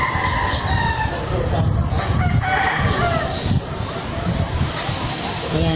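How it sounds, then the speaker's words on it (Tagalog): Roosters crow repeatedly nearby on a rural homestead where aloe vera is being cut, the calls overlapping under steady talk and background clucking. "Daming manok na tumitilaok."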